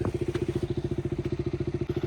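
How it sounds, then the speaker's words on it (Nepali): A motorcycle engine idles close by with a fast, even, thumping putter that holds steady throughout. "बाइक चाहिँ स्टार्ट भयो भर्खर"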